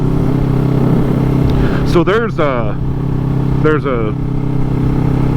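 A motorcycle engine drones steadily throughout as the bike is ridden, a continuous low buzzing hum with a few brief spoken words over it.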